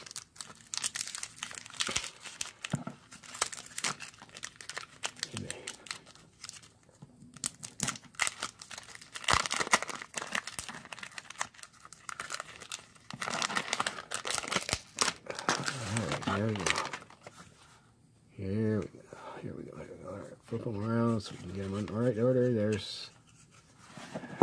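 Foil wrapping crinkles and crunches up close as a 2019 Gold Rush baseball card pack is torn open and the cards are pulled apart, with someone talking over the later part.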